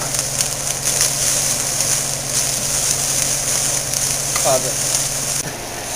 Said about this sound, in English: we're going to add 2 tablespoons of shallots and 1 tablespoon of minced garlic. And we're going to cook this for just 1 minute